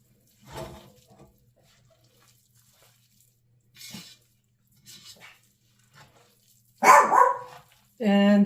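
A dog barking indoors in a home kitchen, scattered sharp barks from another room, some faint and some loud and close near the end, separated by quiet stretches.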